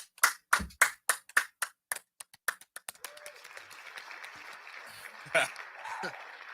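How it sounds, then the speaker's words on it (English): A small group claps during an interview with a deaf Miss Arizona model: loud, distinct claps in a quickening rhythm that fade into softer scattered clapping, with talking underneath toward the end. "Let's give a round of applause for that."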